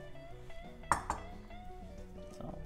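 A spoon stirs zucchini into carbonara cream in a pan, giving two quick, fairly quiet clinks of utensil against cookware close together over a low, steady kitchen background.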